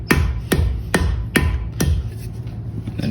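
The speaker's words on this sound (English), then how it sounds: "use the cross peen of my hammer" Cross peen of a blacksmith's hammer striking hot iron on a swedge block at a historic fort's smithy, five sharp ringing blows in an even rhythm, close and loud, with no talking.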